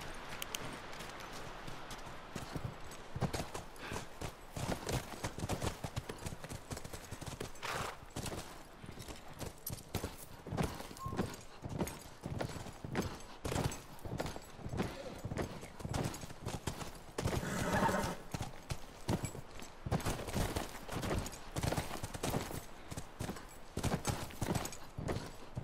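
Hooves clip-clop steadily on hard ground in The Last of Us Remastered, several horses moving together, with an occasional neigh rising above the rhythmic beats.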